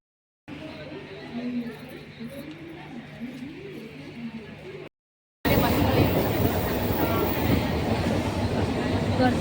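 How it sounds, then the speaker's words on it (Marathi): A Mumbai suburban local train boarded at Prabhadevi station rumbles steadily with muffled passenger chatter, then, after a brief silent cut, the ride turns much louder with a roaring rush of wheels and wind. "आता ट्रेनमध्ये"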